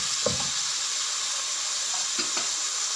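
Chicken liver and beans sizzle in a pan while chopsuey is being cooked, a constant bright hiss with a couple of short stirring scrapes at the start and again near the end. Nobody talks.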